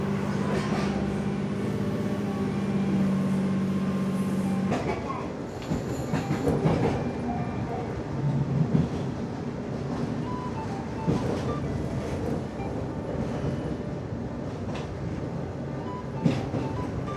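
A KiHa 47 diesel local train on the San'in Main Line pulls away from a station with a rising engine drone, then runs on with steady rumble and rhythmic clickety-clack of wheels over rail joints.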